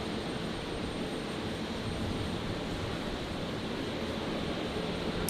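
Steady broadband jet roar of a Jetstar Airbus A321neo taxiing at Brisbane Airport, a continuous even rumble with no talk over it.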